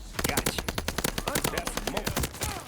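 Rapid automatic fire from the H4 Blixen in Call of Duty Vanguard, a fast even rhythm of close, loud gunshots running the whole stretch without a break.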